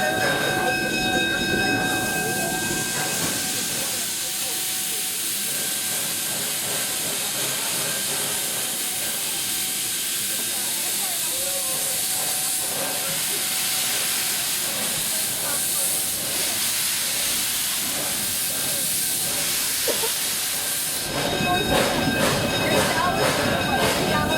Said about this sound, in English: please keep arms and legs inside the train at all times and remain seated while the train is in motion